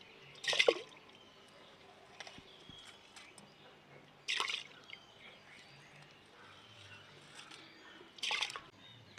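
Rice and lentils being washed together in water for khichuri, three separate splashy swishing bursts spaced a few seconds apart, close and fairly quiet with faint background noise between.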